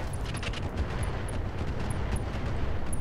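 Heavy energy-weapon fire from a mech in the Roguetech BattleTech mod: dense, rumbling bursts of blasts and booms rolling continuously under a high, faint electronic chirp, loud and close.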